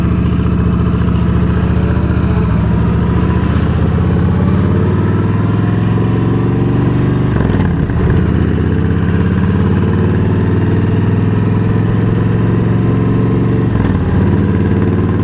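A motorcycle cruises along a road, its engine a steady, loud rumble that holds throughout with slight swells as the throttle shifts. Wind noise rides over the drone, and no one talks.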